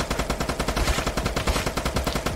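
Rapid automatic gunfire in the video game Apocalypse Rising 2, a close, loud, evenly spaced string of shots lasting a couple of seconds with no talk.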